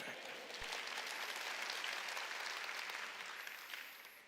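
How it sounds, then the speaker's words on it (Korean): A church congregation applauds during a Korean sermon service, with a broad, steady wash of clapping heard at a distance that fades slightly toward the end. "박수."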